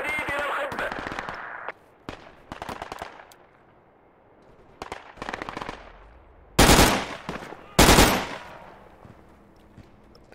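Video game gunfire crackles in bursts of rapid automatic shots, some sharp and close, others quicker and farther off, with two loud heavy volleys near the end of the battle.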